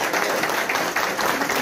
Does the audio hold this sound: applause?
yes